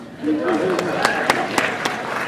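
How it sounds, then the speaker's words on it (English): A handful of slow, evenly spaced claps ring out from a conference audience, sharp and distinct over a speaking voice. "it needs a round of applause on its own"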